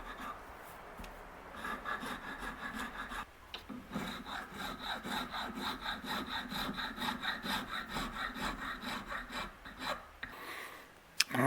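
Hand file rasping across knife scales in quick, steady back-and-forth strokes, close and continuous for most of the stretch, with a brief pause near the middle and again toward the end.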